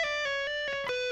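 Distorted electric guitar plays a quick lead phrase with pull-offs from a solo, sustained bright notes changing pitch in rapid succession, played alone and close.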